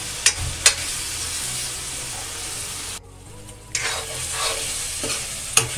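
Tomatoes sizzle in a hot pan while being stirred for a home-style potato and carrot curry, a steady frying hiss broken by sharp scraping strokes and one brief lull partway through.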